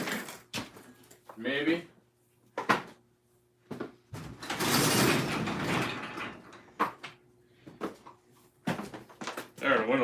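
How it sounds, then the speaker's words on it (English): A garage door rolls open in a workshop with a long rushing, rattling sweep lasting a couple of seconds, set among short clunks and bumps while someone talks briefly before and after. "I'm gonna open this garage door for a minute"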